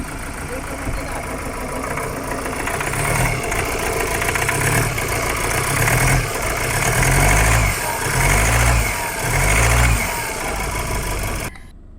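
A 2019 Ford Ranger engine with faulty injectors runs low on power and vibrates heavily, giving a steady close rumble with rhythmic low pulses and a voice talking over it.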